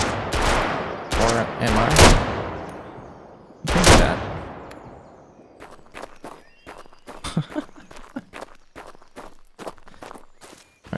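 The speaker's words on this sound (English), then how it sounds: "I'm not getting very good at shooting so far." Video game gunfire in Road to Vostok: a few loud, booming shots with long decays early on, followed by quieter, sharp clicks and footsteps, with a voice speaking briefly.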